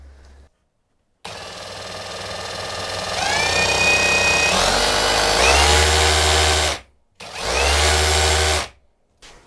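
A Lumberjack SDS brushless drill runs loud and close, starting after a pause, whining up through rising speeds as the trigger is squeezed harder, stopping briefly, then spinning up again before cutting off.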